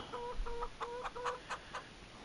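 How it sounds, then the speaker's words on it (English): Chickens in the Farming Simulator 25 game cluck in a quick run of short, evenly spaced calls, fairly close and clear over a low background hum, with no talking. "Got 61 chickens."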